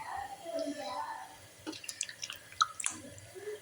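Grapes rubbed and washed in lukewarm water, giving soft splashes and drips close by under quiet talk.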